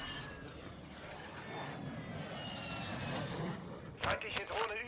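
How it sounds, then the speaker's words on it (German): Enemy drone in the Call of Duty Warzone 2 video game droning overhead as a steady engine hum beneath game noise, with brighter bursts near the end, while players talk over it. "Feindliche Drohne über uns."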